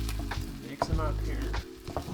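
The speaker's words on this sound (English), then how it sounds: "Mix them up here." Ingredients and tomato paste stirred together in a hot frying pan, a loud close sizzle with repeated scraping strokes of the spoon across the pan, alone without talk.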